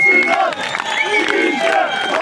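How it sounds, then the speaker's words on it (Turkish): A crowd at a presidential election campaign rally in Şile cheers and shouts loudly, voices rising together in sustained chanting-like cries with some clapping mixed in, close and energetic throughout. "Şile, kendinizi kuvvetlice alkışlayın"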